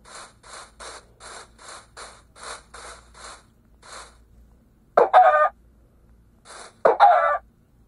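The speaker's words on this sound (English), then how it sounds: "And here's another chicken." A Minecraft: Pocket Edition chicken clucks in a quick run of short, even pulses, followed by two louder, harsher squawks, close and alone without any talk.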